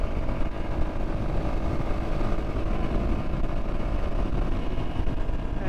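A Yamaha XT250 motorcycle engine runs steadily while riding at cruising speed, with a constant engine drone mixed with wind rush and no breaks.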